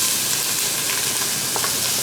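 Onions and jalapeño sizzle steadily in an Instant Pot set to sauté, a loud, even hiss of frying with faint stirring clicks throughout and no voices.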